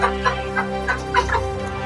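Chickens clucking in short repeated bursts, several calls close by over a steady low background hum, no voices.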